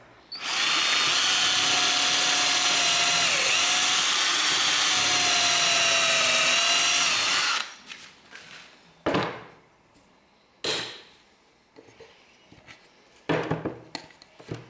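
A power drill drives small pocket hole screws to join shelf pieces, one long loud whine lasting several seconds, then a few short, sharp bursts of drilling and clunks with quiet gaps between them.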